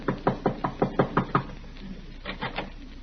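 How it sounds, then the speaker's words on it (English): Nervous tapping knocks on an apartment door, a quick even run of about eight raps followed by a pause and a softer, hesitant pair, close and without any voices. "he is tapping a bit nervously at the door of Miss Jessup's apartment"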